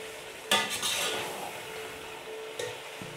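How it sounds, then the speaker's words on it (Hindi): Ginger garlic paste being stirred in a pan with onions for shahi chicken korma, a soft sizzle under scraping of a spoon against the pan, with a sharp clatter near the start and another brief knock later. "अदरक लहसुन का पेस्ट डाल के हमने इसको अच्छी तरीके से भून लिया है"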